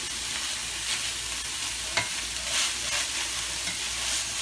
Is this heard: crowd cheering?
no